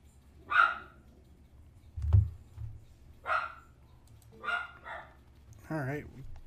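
Dog barking indoors in a room where a Zelda: Twilight Princess game is being played, several sharp separate barks spaced a second or so apart, fairly close, with a few quieter sounds between them.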